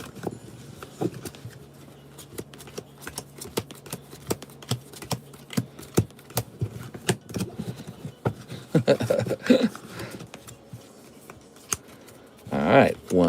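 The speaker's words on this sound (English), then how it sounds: "A little bit of shuffling, right? We like shuffling." Pokémon trading cards being shuffled by hand during a card break, a run of soft papery riffles and clicks in irregular bursts, with talk over it.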